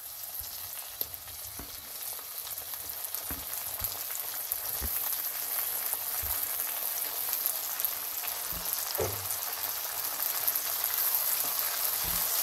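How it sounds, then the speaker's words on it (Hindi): Chopped tomatoes and green chilies sizzle with onions in a hot pan for masala chicken, a steady, close frying hiss broken by occasional soft stirring knocks, with no voices. "इनको भी हम एक से दो मिनट भून लेंगे"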